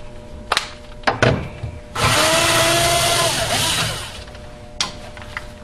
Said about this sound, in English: First, we're gonna remove 2 screws on the side.